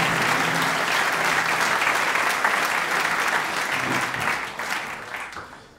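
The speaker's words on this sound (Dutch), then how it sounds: "Geef ik hem hartelijk applaus." Audience applause for the rhythm guitarist of a jazz quartet at a concert venue: dense, steady clapping throughout that gradually fades near the end.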